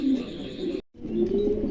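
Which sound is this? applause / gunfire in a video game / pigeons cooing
pigeons cooing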